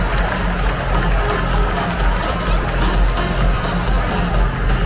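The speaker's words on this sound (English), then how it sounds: "The crowd is cheering because Trey Turner hit a double." A ballpark crowd at a Philadelphia Phillies versus Washington Nationals baseball game roaring and cheering after a double, a broad sustained wash of distant voices with scattered shouts, fairly loud throughout.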